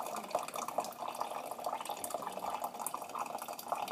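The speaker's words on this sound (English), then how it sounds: "you just want to slowly pour your hot water through" Hot water is poured slowly over coffee grounds for a slow-pour brew, giving a soft continuous trickle and splash that stays gentle and close, with no voices over it.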